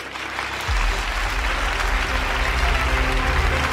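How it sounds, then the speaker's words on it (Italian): An audience at an awards ceremony applauds as the professional firm of the year prize for tax consulting is announced, steady dense clapping rising after a low start and holding loud over a faint musical drone. "Un bel applauso"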